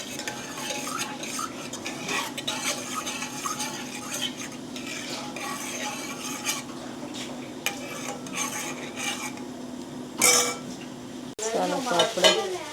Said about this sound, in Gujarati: જીરુંને ફર્સ્ટ કૂક કરવાનું છે.